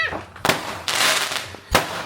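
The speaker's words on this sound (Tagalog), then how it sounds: "Tanaw si Jack fireworks." Fireworks burst outdoors in three sharp, loud cracks spaced over a couple of seconds, the middle one trailing into a fizzing crackle before the last bang.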